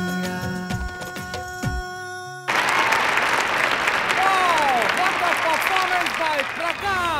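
Applause from a comedy show audience breaks out about midway, following a stretch of music and sung lines. It then continues as a dense, lively clapping wash with whistles and cheers rising over it.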